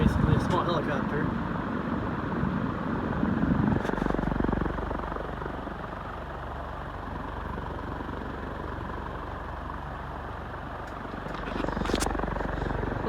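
A 36-inch cast Dayton Challenger industrial ceiling fan running, a steady whooshing blade drone with a low throbbing hum, constant and fairly loud, with faint clicks near the start and end.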